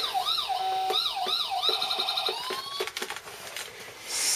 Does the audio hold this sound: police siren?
yes